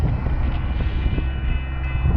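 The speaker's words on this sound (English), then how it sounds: "Oh, train!" Napa Valley wine train rolling past outdoors, a steady low rumble of rail cars with some wind noise and no talking.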